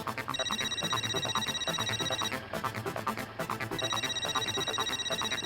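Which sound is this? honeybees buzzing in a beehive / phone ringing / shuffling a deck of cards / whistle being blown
phone ringing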